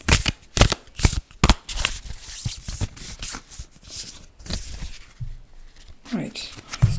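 Playing cards being shuffled from a pack in quick riffling bursts, close and crisp, repeated several times with brief pauses, while a person talks intermittently.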